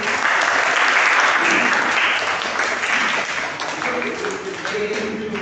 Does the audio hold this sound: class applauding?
yes